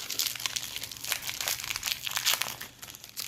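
A Pokemon Lost Origin booster pack's foil wrapper is crinkled and torn open up close, giving a steady run of bright crackling rustles for about three seconds, with no talking.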